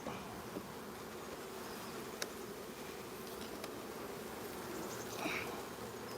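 Calm honey bees in a nuc hive being transferred give off a soft, continuous droning hum, close up, with a few faint clicks and no voices.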